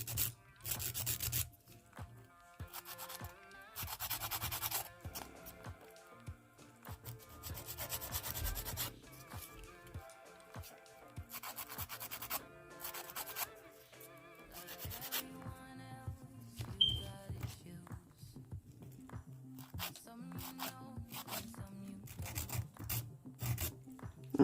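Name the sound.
filing the edge of polygel stiletto nails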